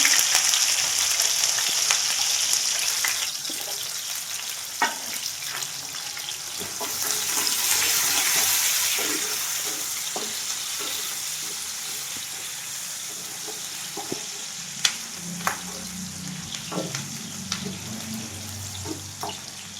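Mustard seeds, green chillies and onions frying in a pan, with a steady close sizzle broken by sharp crackles and pops and a brief swell of hissing midway.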